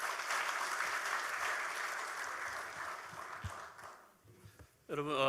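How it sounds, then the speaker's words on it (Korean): Audience applauding to welcome the 19th president of Yonsei University at the dedication ceremony of Yongin Severance Hospital; steady, dense clapping that fades out, followed by a voice starting to speak. "큰 박수로 맞이해 주시면 고맙겠습니다"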